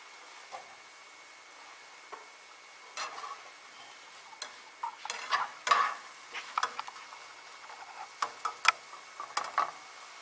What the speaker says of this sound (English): we'll go ahead and let that kind of saute in there